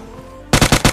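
Four rapid, loud gunshots ring out in quick succession from an M24 rifle in a shooter video game, arriving abruptly after a quiet, low hum.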